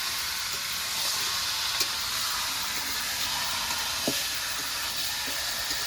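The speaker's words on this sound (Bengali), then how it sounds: "এবার কষানো মশলার সাথে ভালো করে মাংসটাকে কষিয়ে নেবো আবার।" Meat frying with a green chilli paste for a thin curry, a soft continuous sizzle and hiss with an occasional faint clink of the spoon.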